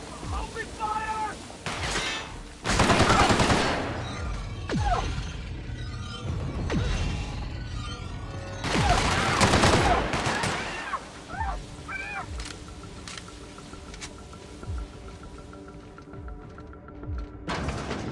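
Gunfire in The Outer Worlds video game: two loud bursts of rapid shooting, the first short, the second longer, amid mechanical clanks, with a voice talking now and then in the mix.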